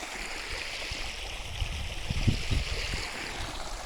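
Clear water runs steadily at the source of the Zhem river near a village in May, a continuous rushing flow with a few low splashes midway.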